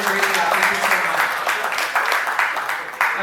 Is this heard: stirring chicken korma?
no